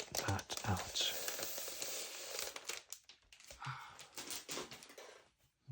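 Plastic shrink wrap being peeled from a Dune: Part Two soundtrack vinyl record, close and quiet crinkling and tearing in short bursts, with soft whispered speech in between.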